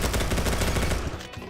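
Rapid hipfire from a 9mm pistol in the Roblox shooter Bad Business, a fast, even string of loud, close shots in quick succession that tails off at the end.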